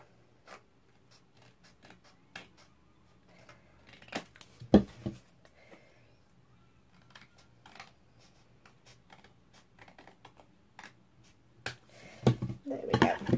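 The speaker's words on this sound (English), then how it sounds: "I'm just going to trim that little piece of that card that's sticking out there." Scissors snip a small protruding piece of card during handmade card making, giving a few short, sharp cuts amid quiet handling and light clicks, close by, with a person talking at points.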